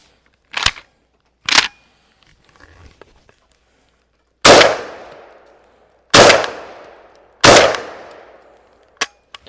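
A Spandau S2 semi-automatic 12 gauge shotgun fires outdoors: two sharp shots, a pause with faint handling clicks, then three louder booming shots with echoing decay and a small final snap.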